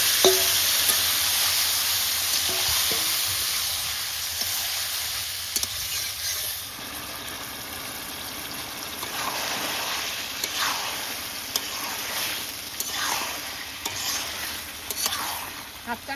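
Spice-washing water poured into hot oil with pieces of country duck meat, setting off a steady loud sizzle while the meat is stirred, with scraping strokes of the spoon recurring through the hiss.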